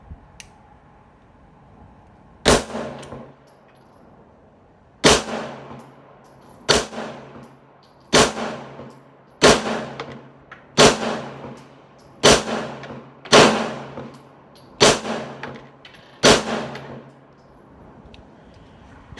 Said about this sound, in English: The first shot's out of my Beretta 92FS.